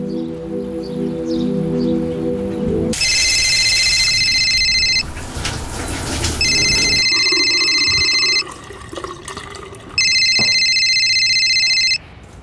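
An electronic phone ringtone repeats in bursts of high, bright tones with short gaps between rings, loud and close, over a low background hum.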